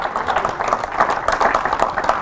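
A church congregation claps together in a dense, rapid patter of applause, close and fairly loud, with a bit of voice mixed in.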